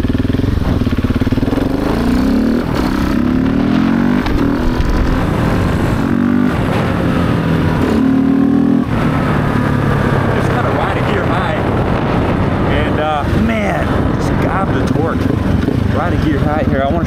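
Ride-along engine of a 700cc motorcycle pulling from low RPM through the gears on frozen tundra, a steady loud drone with rising pitch sweeps and shifts, running under a rider's voice throughout.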